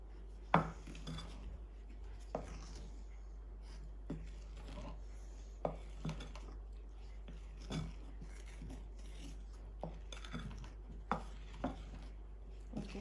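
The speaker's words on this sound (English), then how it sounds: "we're just going to do quarter turns and incorporate the chocolate into the eggs and the sugar" Batter of melted chocolate, eggs and sugar for brownies being folded with quarter turns, giving soft, scattered utensil taps and scrapes against a bowl at an irregular pace, close and quiet, with no voices.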